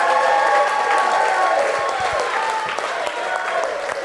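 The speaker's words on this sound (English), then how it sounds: "Everybody give Tony Toro a round of applause." A crowd at a Riot City Rumble wrestling event applauds loudly for Tony Toro, with thick sustained clapping, some cheering and lingering ring-announcer tones beneath the noise.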